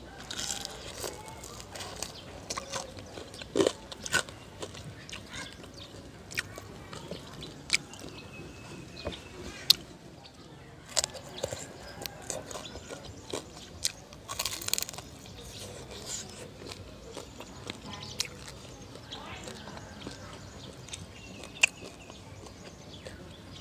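Crispy deep-fried whole roast pig being bitten and chewed up close, with intermittent sharp crunches and crackles over quiet chewing across the span, no speech.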